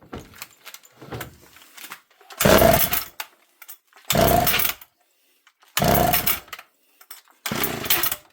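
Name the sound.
chainsaw engine being started and running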